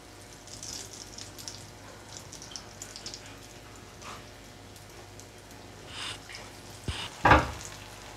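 Bonda frying in oil in a deep kadai gives a faint, steady sizzle, with a sharp metallic clatter near the end.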